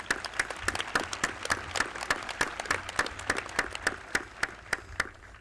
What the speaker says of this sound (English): So if we could all just give them a quick round of applause